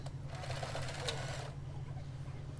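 A sewing machine stitching a doubled hair extension weft gives a fast, steady mechanical whir with a low motor hum. It runs for about a second and a half, then drops to a quieter hum.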